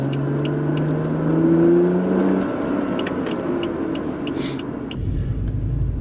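A BMW F30 335i with a new AFE Power intake in an enclosed box revs up and settles, a steady engine whir and rumble with rising and falling tones, close and alone.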